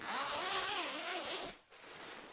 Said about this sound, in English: A black zipper that goes all the way through the top.